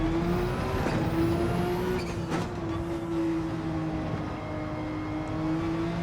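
Porsche RSR race car at high RPM on the Nürburgring, a steady loud engine drone with a rising and falling whine layered on top, continuous and close, with no talk.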